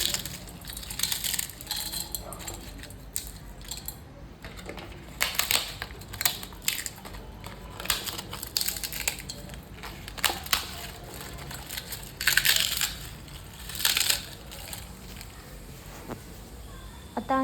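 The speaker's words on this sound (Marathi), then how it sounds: "आता आपल्याला ह्याचा भुगा करायचा आहे. आपल्याला खूप पण बारीक करायचा नाही, असा मीडियम टाईप्स करायचा आहे ह्याचा भुगा." Papad crushed by hand into medium-coarse crumbs for papad corn chaat, giving repeated dry crackling crunches in short bursts, close and fairly loud, with no talk.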